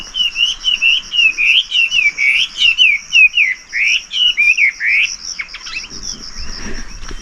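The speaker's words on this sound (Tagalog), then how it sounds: "There's the bird." A bird calls along a hiking trail in Sai Wan, Hong Kong, repeating a clear, bright, warbling phrase in a steady rhythm over a constant high insect-like trill, close and prominent with no talking.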